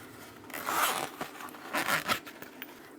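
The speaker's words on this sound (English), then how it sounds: "Open up the zip." A zipper on a mini boxy bag is pulled open in two short rasping bursts, close and clear against a quiet room.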